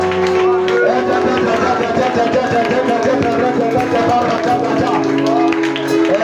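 A church congregation at a prayer and deliverance service cheers and claps, a steady crowd roar with rapid applause and a loud voice over the top throughout.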